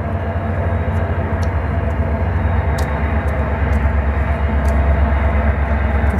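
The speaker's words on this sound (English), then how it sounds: "Now this is a train" A train passing through Redwood City on a winter night, a loud steady rumble with low droning roar that holds throughout, joined by faint high clicks and squeaks from the rails.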